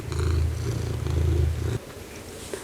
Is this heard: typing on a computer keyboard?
no